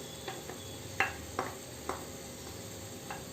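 Shallots and grated coconut being mixed in a pan for a Kerala thoran, heard as a few soft, quiet scraping stirs over a faint low sizzle, with no voices.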